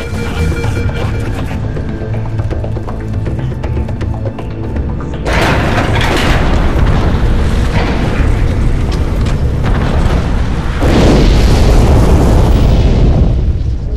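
A bomb explosion in Halo 3, heard as a sustained, loud roaring blast that swells in two stages and holds as a dense, rumbling wash with no voices over it.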